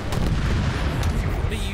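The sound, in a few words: explosions in a video game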